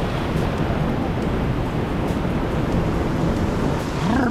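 A waterfall in Colombia rushes in a dense, loud, unbroken roar heard from close by, with wind buffeting the microphone and no voices.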